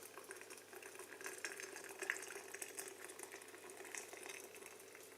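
Hot water is poured steadily through the funnel-shaped neck of a hot water bottle, giving a continuous soft gurgling, filling sound that stays close and fairly quiet throughout.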